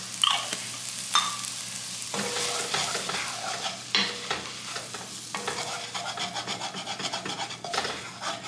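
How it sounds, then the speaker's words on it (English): Spices (red pepper flakes, cinnamon, garlic powder and onion powder) toasting in a pan, heard as a steady sizzle under repeated close scraping and rubbing strokes of stirring, continuous throughout. "So I want to stir this a bit, get the spices a little bit toasty"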